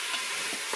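Beef for pot-au-feu and two small onions browning in a Cookeo multicooker, a brief, even close-up sizzle with faint stirring.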